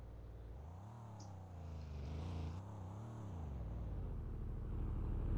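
A car revs and slides through a drift in a Greenville roleplay driving game, its engine droning loud and close with rising and falling pitch that climbs steadily toward the end.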